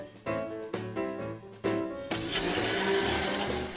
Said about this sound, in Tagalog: At i-blender.